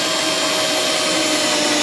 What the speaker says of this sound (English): Go ahead and drill some holes in there.